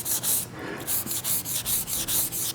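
Mineral-painted wood is distressed by rubbing with a wet cloth or pad, a series of quick scratchy back-and-forth scrubbing strokes in a steady rhythm, close up and without talking.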